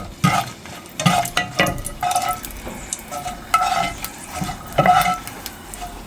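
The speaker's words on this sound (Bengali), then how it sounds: "এখন এই চুলার পাশে শুকনা মরিচ আছে, কয়টা একটু ভাজা লই" Vietnamese dried red chilies fry in a pan beside the stove, with close scraping and stirring clatters arriving in uneven bursts over a soft steady sizzle.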